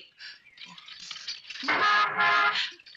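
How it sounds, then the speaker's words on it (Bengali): Car horn on a road, a couple of short toots followed by a longer, louder sustained honk that cuts off near the end. "তখন থেকে যে হর্ন দিচ্ছি কানে শুনতে পাচ্ছেন না?"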